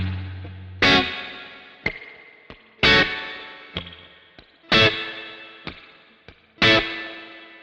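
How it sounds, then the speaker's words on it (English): Electric guitar played through a Fender spring reverb preset on a Kemper Profiler, 60s style: four loud, sharp chord stabs on a steady backbeat, lighter muted strums between them, each stab trailing off in a splashy spring reverb tail. "Then adding the spring reverb."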